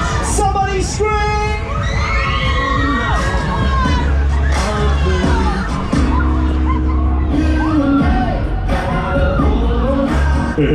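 Riders scream and whoop on the Air Raid fairground ride at the Newcastle Valentines Fair, a continuous crowd of yells over loud pumping music and an announcer's voice throughout.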